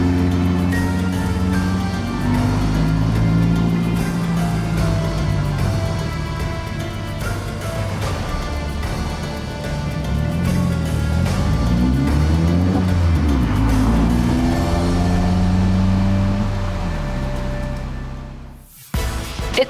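A sports car, either a Lotus Elise or a Roding Roadster, climbs a winding mountain pass road with 34 turns and grades up to 14%. Its engine revs rise and fall loudly through the gears before cutting off abruptly.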